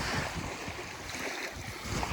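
Baltic Sea waves wash onto a beach in a continuous broadband roar, mixed with buffeting wind noise on the microphone and no voices.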